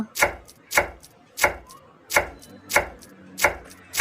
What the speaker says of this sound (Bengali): এবার রসুনের পড়গুলোকে ছোট্ট ছোট করে কুচিয়ে নেব